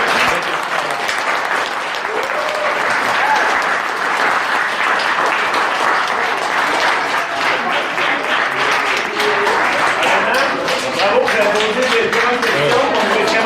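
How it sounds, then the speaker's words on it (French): Applause from an audience at a local soccer day event, dense sustained clapping lasting throughout, loud and close, with some voices in the crowd. "merci les gars, on peut les applaudir,"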